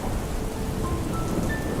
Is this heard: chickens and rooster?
no